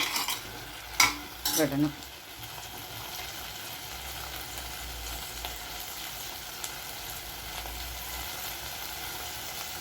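Brinjal sautéing in plenty of sesame oil gives a steady, soft sizzle throughout, with a few sharp utensil clinks and stirring scrapes near the start and one brief spoken word.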